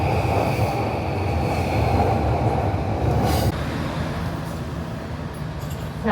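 A loud, continuous rumble of a train passing overhead, heard from inside a restaurant bus in Tokyo, heavy low-frequency roar filling the space, easing slightly toward the end.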